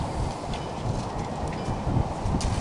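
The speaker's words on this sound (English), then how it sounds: "The guy walking his goat." A goat led on a lead along an outdoor path, its hooves clip-clopping in a steady walking rhythm close by, with a rustling background and no talk.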